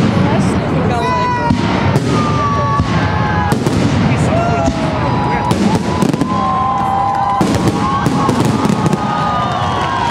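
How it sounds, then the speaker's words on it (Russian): Festive fireworks salute over Obninsk at a Victory Day celebration, fired in volleys: loud repeated bursts and crackles with whistling rising streaks, continuous for the whole stretch, with crowd voices underneath. "А ровно в 10 вечера на Добнинском пригремели первые залпы праздничного салюта, который длился около 7 минут."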